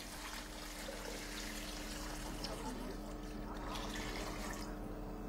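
Water pours steadily into a cooking pot over veal, halved onion and celery stalks, a continuous close, soft rushing and trickling sound heard alone for several seconds.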